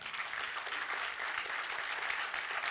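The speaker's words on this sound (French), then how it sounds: "Je pense qu'on peut l'applaudir chaleureusement." An audience applauds Bertrand Piccard at a Solar Impulse Foundation event, GTF2024, with steady, dense clapping that fills the whole stretch at an even level and no voices.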